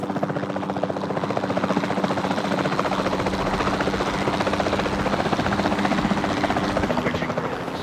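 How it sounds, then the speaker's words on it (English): Helicopter flying in the video game Jurassic World Evolution 2 on an Arizona map, a capture team chopper whose steady rotor thrum and engine drone hold loud and constant for the whole stretch with no talk over it. "Then the sensible thing is to take a capture team helicopter."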